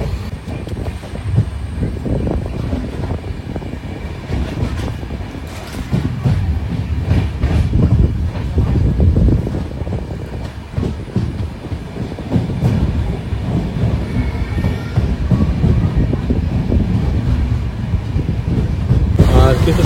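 The Sealdah Puri Duronto Express runs at speed, its loud rumbling roll and rhythmic clickety-clack of wheels over rail joints heard close from inside the train, rising and falling in waves, with a voice speaking over it at times.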